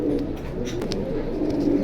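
A large male pigeon coos low and steady in short rumbling phrases at close range, with faint background noise around it.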